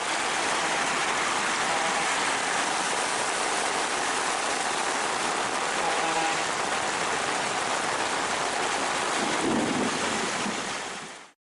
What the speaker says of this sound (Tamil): இடி மின்னலுடன் கனமழை கொட்டி தீர்த்தது